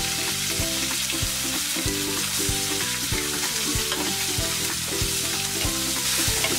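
Capsicum frying in hot oil with cumin and asafoetida, a steady loud sizzle with repeated stirring scrapes at a regular rhythm, close up and with no talking.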